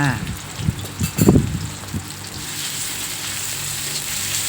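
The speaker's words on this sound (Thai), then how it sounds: "กระเทียมก็เหลืองแล้วใส่หมูสับลงไปเลยค่ะ" Minced pork dropped into a hot pan with golden fried garlic, a burst of sizzling and stirring scrapes followed by a steady soft frying hiss, with someone talking over the start.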